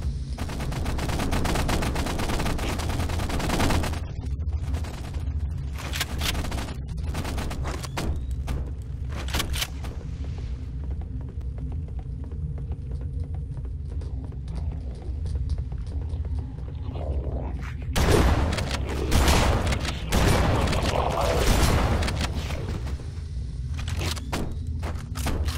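Pistol shots and frag grenade blasts in the first-person shooter Halo Anniversary, on Legendary difficulty, the Keyes mission. Loud bursts of firing and explosions open and close the stretch, with a quieter lull between them.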